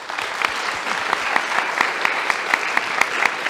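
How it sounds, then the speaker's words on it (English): Audience at a government design final show applauding panelists: steady, dense clapping from a room-sized crowd, sustained throughout with no speech over it. "give a great round of applause for the panelists here."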